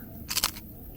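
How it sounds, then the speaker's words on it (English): A single crisp crunch as someone bites into a biscuit from a Czech military 24-hour ration, a short close bite lasting under half a second in a quiet room. "A nice crunch, but then they almost dissolve in your mouth."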